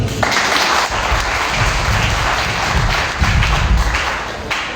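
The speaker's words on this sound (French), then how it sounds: "Il faut vous applaudir." An audience at a political meeting applauds, with sustained, dense clapping throughout that swells again near the end, heard close and loud with no clear speech over it.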